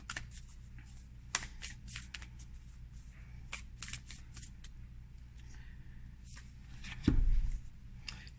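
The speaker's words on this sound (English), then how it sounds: "let's get a Work Your Light Oracle card here" Work Your Light oracle cards are shuffled by hand in soft, quick riffles and slides, close and fairly quiet, with a louder shuffle and thump near the end.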